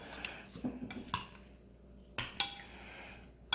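A spoon stirring chia seed fruit salad with honey in a bowl, giving a few light clinks and scrapes against the dish between quiet pauses.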